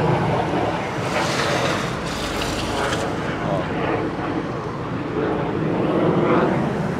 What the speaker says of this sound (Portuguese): Olha, olha um jato.